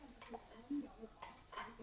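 Curry stirred in a pan sizzles faintly while sticking a little to the bottom, with a few soft scraping strokes and short bursts of frying hiss over quiet kitchen background.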